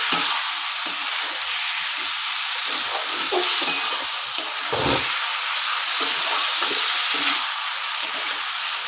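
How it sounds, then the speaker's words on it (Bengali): Spices and katla fish pieces frying and being stirred in hot oil for a fish curry with potato and green banana, a steady loud sizzle with scraping stir strokes and a sharper clatter midway. "এবার কষে নিই কষাটা একটু ভালো করে কষবেন যাতে তেলটা বেরোনো পর্যন্ত একটু অপেক্ষা করতে হবে"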